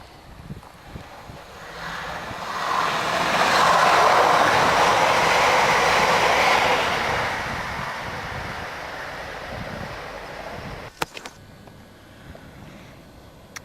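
A passenger train rushes past on a railway line in the English countryside, swelling from distant rumble to a loud, windy roar up close, then fading away, with a couple of sharp clicks near the end.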